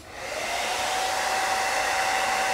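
A heat gun blows hot air over vinyl wrap on a 2004 Mustang GT to lift out a wrinkle. Its steady, loud, close whooshing roar swells up in the first moment and then holds even, with no voices.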